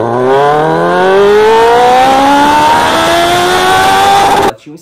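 A loud Kawasaki Z750 motorcycle engine with a straight-through exhaust revs up, its pitch climbing steadily for several seconds before cutting off abruptly.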